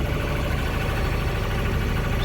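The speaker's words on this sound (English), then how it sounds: "But that's the sound of a diesel running." Steady, smooth drone of a sailboat's diesel engine running, a continuous low rumble with a faint rhythmic pulse, moderately loud and close with no voices.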